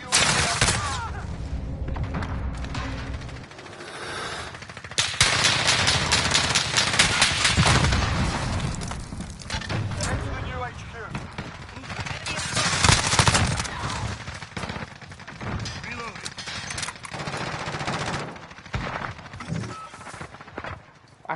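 Dense gunfire from the Modern Warfare II trailer: rapid automatic bursts and heavy booms stack up loud and near, with voices talking over the chaotic battle noise throughout.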